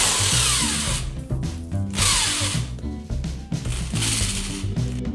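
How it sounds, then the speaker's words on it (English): A power drill bores through layers of tape-covered fabric and cardboard during notebook-cover making, giving two loud whining bursts with winding-down pitch and gritty cutting noise between them. "then drilling through everything."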